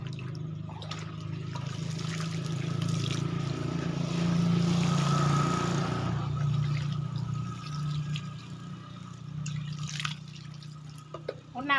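Water poured from a watering can over two freshly planted potted crown-of-thorns plants, a steady splashing wash over a low background hum with no voices.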